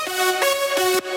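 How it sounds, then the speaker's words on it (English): Three stacked Serum synth lead layers play a short bright phrase of about three sustained notes with sharp attacks, clean and alone, ending abruptly. "For the leads, I use 3 instances of Serum."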